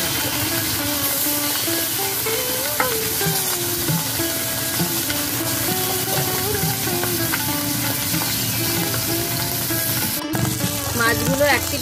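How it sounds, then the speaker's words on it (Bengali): Small morola fish fry in hot oil in a pan, giving a steady, loud, close crackling sizzle throughout, with a faint voice now and then underneath. "তেল খুব ভালো করে গরম হয়ে গেছে, এখন আমি মাছগুলোকে ভেজে নেব।"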